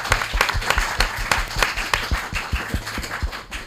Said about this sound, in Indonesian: Tepuk tangannya mana dari IAIN?